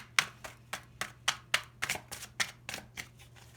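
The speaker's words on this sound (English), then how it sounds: "I might have to pull a card after this shuffle." Cards riffled in a quick series of about a dozen crisp, rattling bursts, close and fairly even, over a low steady hum.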